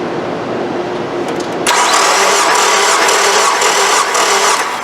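Nissan 2.5 engine cranking over at wide open throttle during a compression test on cylinder number 2, a steady mechanical whirring that jumps louder partway through and holds a droning, buzzy tone.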